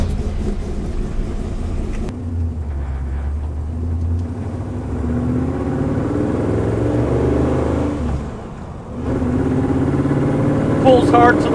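Classic Ford Bronco accelerating hard from a standstill, engine roaring steadily and loud up close from inside the cab, with a brief dip as it shifts gear before pulling again; people talk over the engine.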